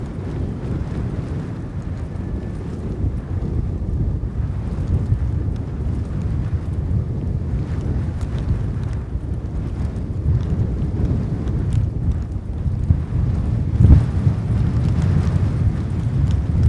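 Gusty wind buffets an outdoor microphone at an aircraft-spotting mound, a loud, rumbling low roar that swells and dips unevenly across the whole stretch, with one stronger thump near the end and no voices.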